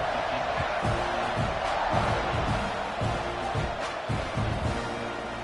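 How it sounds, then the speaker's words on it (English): A football stadium crowd buzzes after a score, a broad, continuous roar of many voices with scattered shouts and thumps, steady and fairly loud at a distance. "this crowd is buzzing after that last score"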